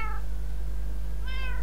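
Two short cat meows in Minecraft FTB, the first at the start and a second, higher harmonic cry near the end, heard alone over a steady low game hum.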